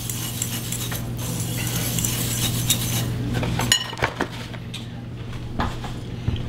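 Deviled egg filling being mixed in a bowl: a spoon scrapes, clicks and clinks against the bowl in an irregular rhythm over a steady low hum, with a few sharper knocks near the end.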